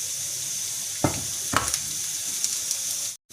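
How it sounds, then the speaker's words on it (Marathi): Masala roasts in a little oil for village-style nonveg khur handi, a continuous hissing sizzle with two or three soft stirring knocks before a brief sudden cutout at the end. "याच्यामध्ये थोडंसं तेल टाकून घ्यायचं. आणि याला लालसर होतले भाजायचं."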